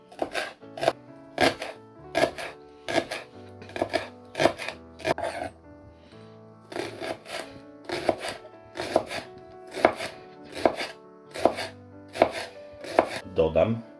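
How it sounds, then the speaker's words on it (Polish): A knife slices salad ingredients into thin strips on a cutting board in a kitchen, giving steady, close, crisp chopping taps in even runs with a short pause midway. "Kroimy w cieniutkie paseczki."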